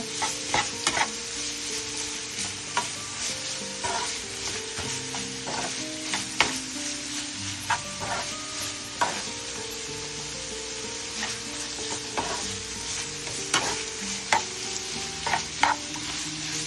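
Vegetables sizzle steadily in a hot pan for nachos, with a constant frying hiss broken by frequent scraping and clinking as a utensil stirs them.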